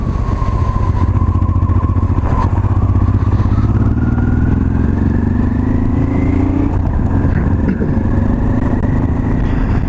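A 1989 Honda Transalp XL600V motorcycle rides along a loose, freshly graded dirt driveway, its engine droning loud and close, with pitch slowly rising, plus steady wind buffeting and gravel clatter.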